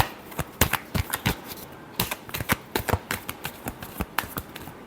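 Tarot cards shuffled by hand, a quick run of crisp riffling snaps and flicks in uneven bursts, close and fairly quiet with no voice over them.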